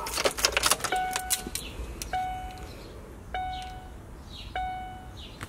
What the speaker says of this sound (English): I'm gonna grab my keys and turn on the truck